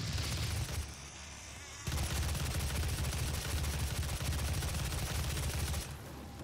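Weapon fire in the 2016 DOOM game comes as dense, continuous rapid shooting with a roaring low rumble, breaking briefly near the start and again at the end, loud and unbroken by any voice.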